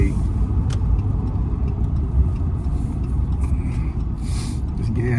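A new diesel truck driving along, its engine giving a steady low rumble with road noise inside the cab, constant and fairly loud throughout.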